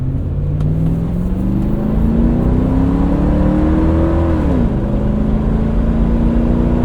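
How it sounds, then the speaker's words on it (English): A 2000 Lexus LX 470 V8 with its muffler deleted revs loud and close, a steady gnarly drone that climbs over several seconds and then drops back to a lower hold. "I love the way this V8 sounds."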